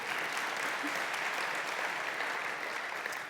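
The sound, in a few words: audience clapping at a talk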